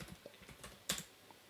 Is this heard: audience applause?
no